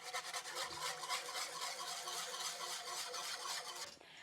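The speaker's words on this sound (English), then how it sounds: "I like to go to the bottom of that pan and start whisking" Milk-based sauce whisked in a pan while heating, a continuous close rasping whisk against the metal bottom in quick regular strokes, stopping near the end.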